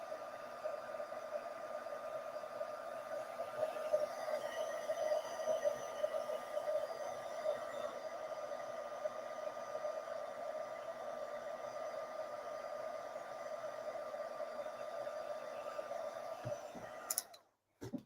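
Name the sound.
heat tool melting embossing powder on a card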